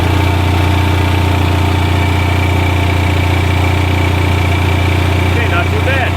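A JB motor that has been warmed up runs under load after being switched back on, a steady, loud hum with a strong low drone and a constant mechanical buzz, close by throughout.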